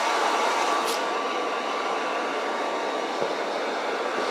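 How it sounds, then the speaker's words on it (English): A heat dryer blows steadily at close range while a painting dries, a continuous broadband whoosh that holds at a level volume throughout. "do you need this the heat dryer after I'm done?"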